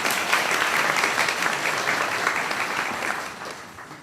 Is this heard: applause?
yes